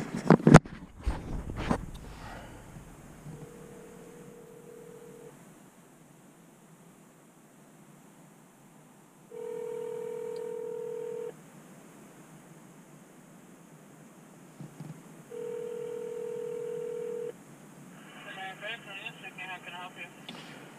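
A phone call rings out through the speakers inside a parked Mercedes-Benz GLA 250 4Matic SUV: three long, even ringback tones with pauses between them, after a few brief taps and clicks at the start.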